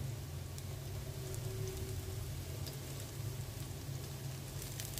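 Panch phoron spices hit hot oil already holding chopped garlic, onion and whole cumin, giving a soft, continuous sizzle and crackle like light rain, fairly quiet and with no talk over it.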